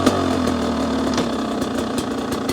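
A 2022 Beta 300 Race Edition dirt bike sits in neutral at idle, making a steady, loud two-stroke burble close by with a fast, even pulse and no talk.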